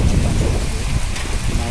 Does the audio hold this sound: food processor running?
no